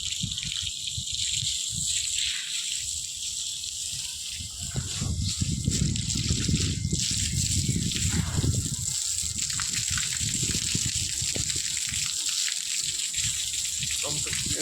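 A steady rushing spray of water hits fresh plaster on a wall nearby, growing stronger midway, with muffled talk underneath.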